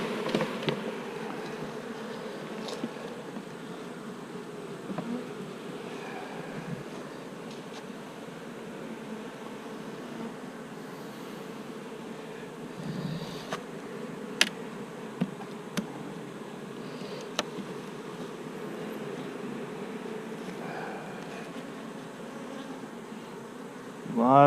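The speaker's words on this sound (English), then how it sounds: "A lot of nurse bees on this." Honey bees buzz steadily around an open hive frame during hot-weather nuc making, a dense continuous hum close by with a few sharp clicks from handling and no talking.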